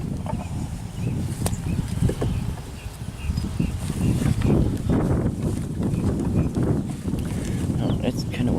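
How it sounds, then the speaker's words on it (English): Wind blowing outdoors beside a bee hive, a steady broadband rush buffeting the microphone throughout, with a person talking over it at moderate volume. "Oh, it's kind of windy."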